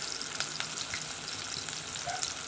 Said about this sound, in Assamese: এয়া চাওক, পিঁয়াজখিনি মই লৰাই আছোঁ।